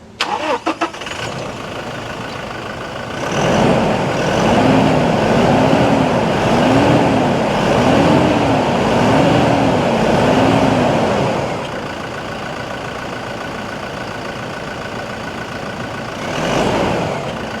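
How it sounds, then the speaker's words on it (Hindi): A Toyota Innova Crysta engine with 160,000 km cranks and catches, revving up with a pulsing rise and fall before settling into a steady idle, loud and close. "गाड़ी को एक बार स्टार्ट करके आपको इसकी साउंड चेक करवाता हूँ।"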